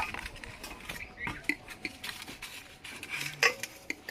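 Dishes and utensils clink and scrape in quick, irregular knocks as they are washed, quiet and close, with a brief metallic ring.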